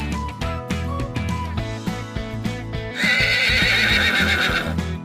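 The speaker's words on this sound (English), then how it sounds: "I am a horse." A horse neighs loudly in a long, shrill whinny, following a bouncy children's farm-animal song that keeps playing underneath.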